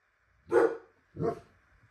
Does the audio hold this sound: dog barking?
yes